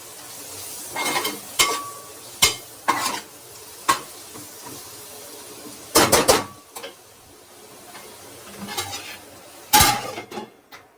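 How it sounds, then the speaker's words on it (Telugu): Curry with chili powder sizzles in a pan while a spoon stirs and clinks against the metal in sharp, irregular scrapes, close and fairly quiet, with no talking. "కారం వేసి ఒక 5-10 మినిట్స్ ఇలాగా వేగేద్దాం"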